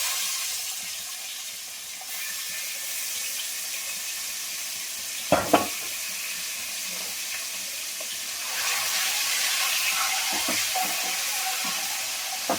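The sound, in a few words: eggs frying in a nonstick kadai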